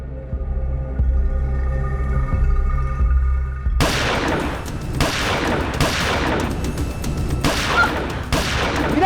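A shootout in a Crime Patrol TV crime drama starts after a quiet, low hum, then breaks into loud, rapid bursts of gunfire with short gaps between volleys.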